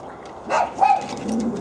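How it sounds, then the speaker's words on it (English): A dog lets out a couple of short, loud barks close by, the sharp yaps rising briefly above a quiet indoor room. "it looks like we're fixing to get a bark fest going here"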